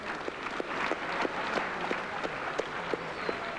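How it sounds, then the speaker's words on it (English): Competitors at the 1981 Superstars televised sports contest applaud with scattered, light clapping that carries on steadily in a large room. "Earns the applause of the rest of the competitors"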